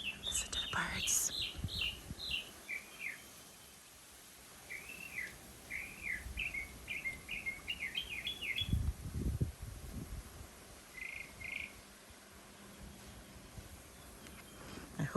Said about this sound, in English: That's a nightingale. I can tell by the sound of her singing.